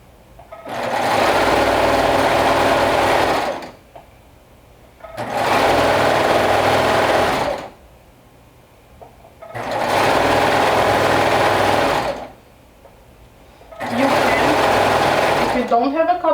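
Four long bursts of a sewing machine running steadily while hemming a sleeve, each several seconds, separated by short pauses; loud and close, with no talking.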